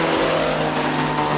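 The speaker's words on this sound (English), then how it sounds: "We're testing this Maserati 250F," A Maserati 250F race car engine revs loudly and close at a test day, a dense, steady mechanical roar with a strong harmonic drone, with no talk over it.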